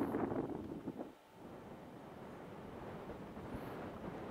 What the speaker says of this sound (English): The wind obviously picked up